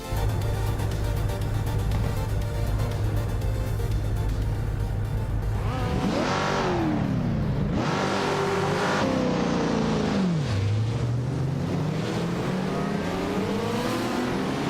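Lancia and Ferrari race cars in a racing video game at the Huachalaluncórdo Antihorreo track: a steady engine drone gives way to loud, rising and falling revs as the cars accelerate, with no talk.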